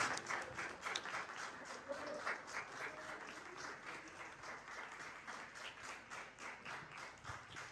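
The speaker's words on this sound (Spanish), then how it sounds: "Denle un fuerte aplauso a Dios." Church congregation applauding during a Bible study service, steady rhythmic clapping from a crowd, faint and somewhat distant, with a voice audible underneath.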